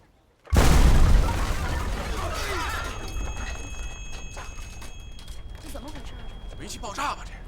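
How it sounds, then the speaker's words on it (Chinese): A sudden loud gas explosion blast near a restaurant on a street, a heavy boom that bursts in abruptly after a brief quiet, then a long rumbling, crackling aftermath of debris and commotion with scattered distant shouting voices. "煤气爆炸吧这？"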